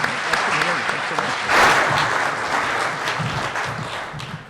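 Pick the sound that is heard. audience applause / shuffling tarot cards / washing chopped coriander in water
audience applause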